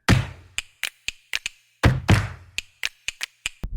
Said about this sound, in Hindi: हैमर से लोगों को पेल सकता है